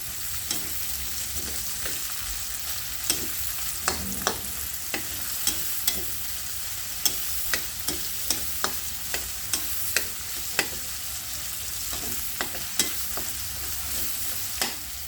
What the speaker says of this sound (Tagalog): Pwede na yan halo-haloin para mas mabango.